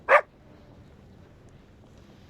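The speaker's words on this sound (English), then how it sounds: "Hearing Wendy's excited barking" A dog named Wendy gives a single short, sharp bark near the start, loud and close, followed by quiet background.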